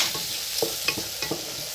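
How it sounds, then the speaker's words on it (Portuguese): Rice fried in oil in a pan with garlic and seasonings, sizzling steadily while a spoon stirs it in a few quick scraping strokes, close up and with no talking. "Mexe bastante para ele não grudar no fundo da panela."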